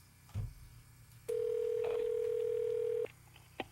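A brief thump, then a steady telephone dial tone holds for nearly two seconds before dialing cuts it off, followed by a faint click.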